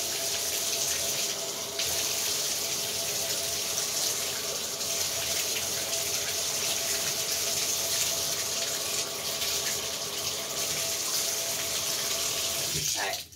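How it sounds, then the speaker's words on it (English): Steady broadband rush of water running from a faucet into a bathtub, continuous and fairly loud for the whole stretch, cutting off abruptly at the very end. "Add some water."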